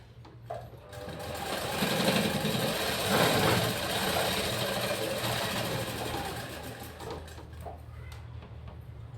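A sewing machine stitches a 36-inch-bust blouse with a loud, steady mechanical whir that runs continuously near the microphone, with no speech.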